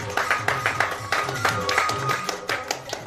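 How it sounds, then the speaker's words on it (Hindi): A crowd claps in quick, continuous bursts at a motivational business gathering, the applause close and steady throughout, with a faint voice mixed into it. "बहुत ताली बजा लिए है नहीं?"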